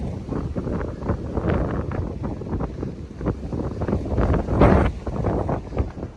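Gusty wind on the Appalachian Trail near Black Rock Viewpoint buffets the microphone in uneven, rumbling bursts, loud and close, with a stronger gust near the end.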